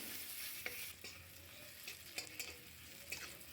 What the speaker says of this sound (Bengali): পেঁয়াজটা একটু বাদামি কালার করে ভেজে নেব।